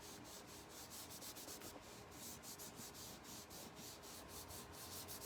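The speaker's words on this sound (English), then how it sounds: "This one we're definitely going to wax because it's wood and it's painted." Wax being rubbed by hand onto painted wooden star cutouts, a soft steady scrubbing with quick repeated strokes, close and fairly quiet, no talking.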